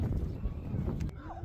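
Sturdy cold-hardy horses at Anseong Farm Land in South Korea give off muffled shuffling and hoof thuds beneath heavy low rumble, and a person talks over it.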